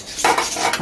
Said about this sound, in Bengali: ভালো করে নেড়ে নেবো জিনিসটা।